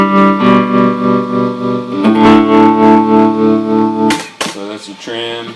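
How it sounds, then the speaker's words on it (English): Electric guitar run through a tremolo pedal in a full amp rig, sustained chords pulsing in a steady rhythmic volume throb, loud and close, with a few plucked notes at the end. "Tremolo sounds awesome as always."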